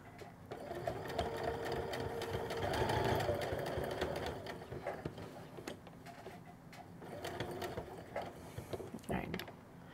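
A sewing machine stitches a French seam along a skirt's raw edges, running in bursts of rapid mechanical whirring and ticking that stop and restart, with a quiet voice talking between runs.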